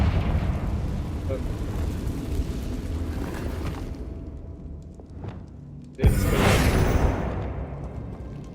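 A Confringo fire spell explodes in Hogwarts Legacy, a sudden loud blast with a rushing, crackling tail after a stretch of muffled game ambience.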